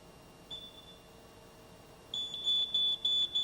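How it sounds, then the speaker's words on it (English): A battery-powered wireless smoke alarm chirps briefly once, then sounds a run of loud, shrill beeps in quick succession, close by. "They've actually come up with battery wireless smoke alarms."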